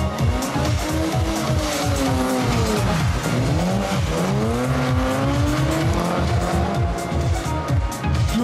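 Drift cars corner at a drift show, engines howling through continuous sweeping pitch changes as tires squeal throughout, loud and sustained, with a faint commentator voice underneath.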